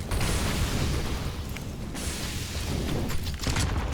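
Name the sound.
grenade explosion from a video game, Counter-Strike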